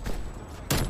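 Two sharp sniper rifle shots ring out in a video game, one right after the other, each a short, punchy crack over steady background noise.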